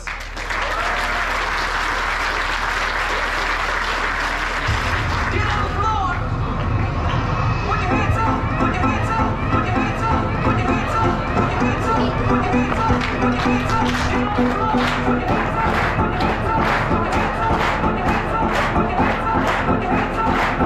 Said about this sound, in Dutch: Een groot applaus voor onze voetballers.